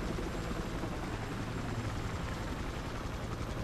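A helicopter in the video game Battlefield Hardline drones steadily overhead, a constant rotor thrum filling the whole clip at low volume with no talk.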